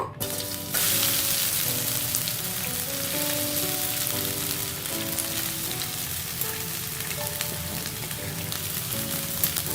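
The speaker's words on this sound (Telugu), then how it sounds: "ఇప్పుడు ఇందులో మనం తరిగి పెట్టుకున్న క్యాబేజీని వేసుకుందాము" Chopped cabbage hits hot oil in a kadai, setting off a sudden, loud, sustained sizzle that crackles evenly throughout, like steady rain on a surface, with faint tonal hum underneath and no speech.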